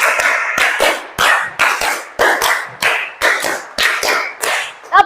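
A group of teachers in a coaching session claps in quick repeated rhythmic bursts, about a dozen loud, close, crisp volleys in a steady counted pattern, with no talking.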